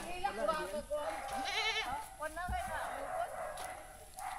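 Repeated quavering goat bleats, loud and close, overlapping with people chatting in the background.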